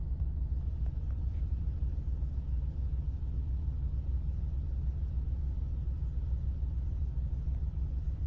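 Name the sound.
car driving around the block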